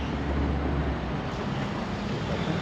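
A river running along the back of a hotel street in Switzerland gives a steady broadband rush of flowing water, constant and moderately loud throughout with no voices.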